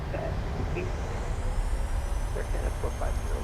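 PMDG 737-700 jet engines spooling up toward half throttle in Microsoft Flight Simulator, a steady broadband roar with a low rumble that holds constant rather than swelling much, with faint tonal whine above.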